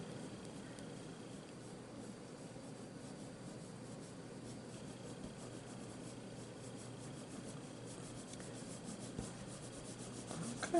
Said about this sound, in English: do a nice, little bit more burnishing, poppy red.